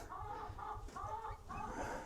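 Exotic pheasant hens and roosters in a pen give repeated soft clucking calls in short bursts, close by and fairly quiet.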